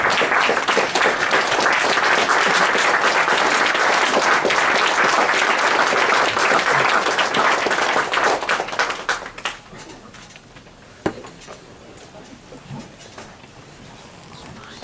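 An audience claps loudly and continuously in a lecture hall setting, sustained applause for Linda lasting about nine seconds before fading to a few scattered claps and room noise.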